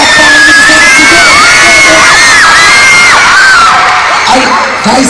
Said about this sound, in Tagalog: Lahat na tayo, palakpakan nyo sa sigaw.